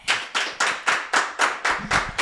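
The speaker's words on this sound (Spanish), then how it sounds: "Un aplauso para Esteban Duch." Rhythmic, evenly spaced hand claps ring out close and loud, about nine beats in quick succession, as an audience welcomes a comedian onto a stage show.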